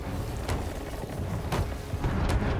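Ship cannons firing during a skeleton fort battle in Sea of Thieves, three booming shots spaced about a second apart over a dense, rumbling battle din.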